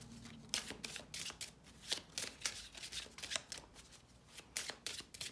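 Shuffling of a Bicycle deck of playing cards: a run of quick riffling bursts, some short and some longer, close and fairly quiet, with no talk over them.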